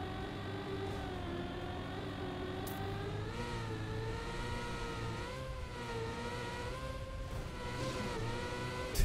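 In a racing video game, a car engine drones steadily while its pitch rises and dips through a string of gear changes, with faint clicks at each shift, heard alone at moderate volume.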